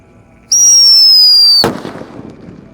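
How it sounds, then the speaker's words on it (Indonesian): A Whistling Thunder firework launched at night gives a loud, piercing rising whistle for about a second, then cuts off into a sharp nearby bang that trails into crackling and rumbling echoes. "Ini kita pertama kali menyalakan whistling malam hari"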